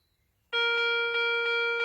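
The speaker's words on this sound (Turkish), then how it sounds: "Çan sesimiz devam ediyor." After a brief near-silence, a steady electronic bell-like metal detector chime starts abruptly over a brick and rings continuously with a faint pulsing shimmer, loud and close.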